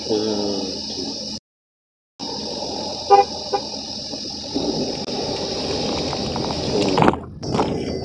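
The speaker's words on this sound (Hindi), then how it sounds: "बहुत ट्रैफिक है आगे से आ रहा।" Road traffic on a busy hill route near Kalimath in Rudraprayag, with car horns honking several times in short bursts over engine rumble and a steady background wash. Vehicles pass nearby, with no voices.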